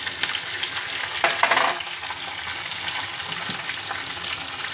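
Curry leaves and dried red chillies frying in hot oil for a beetroot chutney, giving a steady close sizzle with a brief louder crackling burst early on and no voices.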